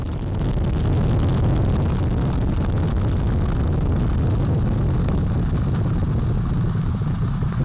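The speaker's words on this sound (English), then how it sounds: "All 4 RS-25 engines on the core stage and 2 solid rocket boosters now propelling the vehicle" The Artemis 1 rocket lifting off, four RS-25 core-stage engines and two solid rocket boosters producing a continuous, heavy, crackling roar that stays loud and dense throughout, with no voices over it.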